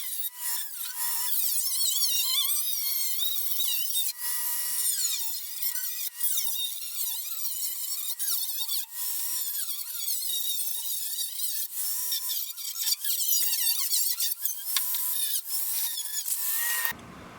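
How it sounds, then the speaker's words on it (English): Continuous scraping and grinding of sanding on a fiberglass fender of a Porsche 914, high and harsh, with squeaky rubbing strokes and brief pauses, close by. "So I'm going to start sanding and then cut out the fender."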